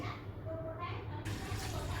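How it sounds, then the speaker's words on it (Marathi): A glass of water poured into a pot of night jasmine leaves for boiling, a short close splashing pour over low background hum. "1 ग्लास पाणी टाकलं"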